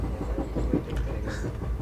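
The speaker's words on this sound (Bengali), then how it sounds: "সেটা হচ্ছে নিউ জলপাইগুড়ি বন্দে ভারত, যেটা সকাল আজকে 5:55 বা 6টার দিকে ছাড়ে, সেটা আর কিছুক্ষণের মধ্যে আমাদের এই ট্রেনকে ওভারটেক করে যাবে" Inside a train on the New Jalpaiguri route, the carriage rumbles with soft clickety-clack rhythm as the Vande Bharat express is about to overtake; quiet, continuous rolling noise with faint thumps.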